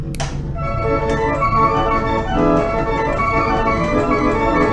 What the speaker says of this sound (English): the first piece of why audio might be the circus organ you hear when randomly playing through your FNaF one night